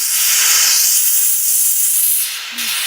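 Torch flame hisses steadily and loudly, close up, as 14 karat yellow gold is melted with borax, with a brief dip and a faint low tone near the end.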